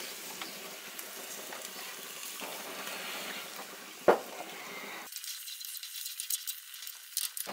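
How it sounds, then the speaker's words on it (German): Smoked beer is poured into goulash soup in a Dutch oven on a gas grill, a liquid splash and hiss running steadily for several seconds with a brief clank midway, close and fairly quiet. "Werden wir jetzt schon direkt hier dieses tolle Rauchbier dazu schütten."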